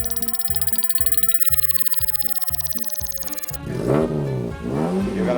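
Car revving sound effect used as a quiz buzzer, a rapid pulsing engine rev with rising whine that shifts into a throatier roaring pass near the end, loud and alone.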